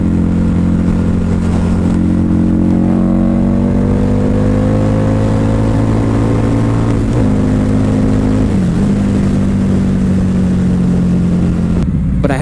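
A Harley-Davidson V-Rod motorcycle is ridden, its loud engine droning close up with a deep, steady rumble, the pitch climbing smoothly through the gears, dipping briefly at each shift and settling back, under constant wind noise.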